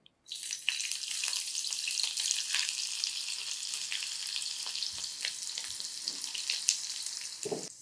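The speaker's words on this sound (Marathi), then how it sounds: "आता यामध्ये कांदा तळून घ्यायचा. कांदा अतिशय मंद आचेवर तळा" Onion frying in oil over very low heat, a steady soft sizzle with occasional stirring scrapes, continuous and close, no voices.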